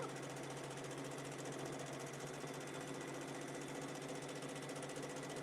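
A domestic sewing machine runs continuously at steady speed during free motion quilting, a dense even mechanical whir close up with no pauses and no talking.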